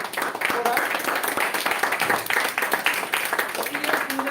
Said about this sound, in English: let's have a huge round of applause for her